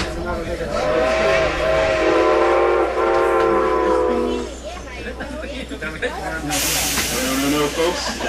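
Whistle of Strasburg Railroad steam locomotive #90 sounding in long, wavering blasts with a second answering blast like an echo, under heavy hiss and a train rumble, while a voice talks over it.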